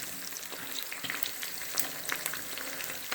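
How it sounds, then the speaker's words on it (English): Bacon and eggs fry in a pan with a constant close sizzle and scattered pops and crackles. No one speaks. "I'm frying 2 bacon and eggs."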